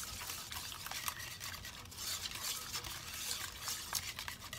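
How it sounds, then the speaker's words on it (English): Sour cream being stirred into a keto sausage puff mixture in a bowl, a steady close scraping and soft wet churning that carries on without pause, with faint clinks of a utensil against the bowl. "Let's mix that in."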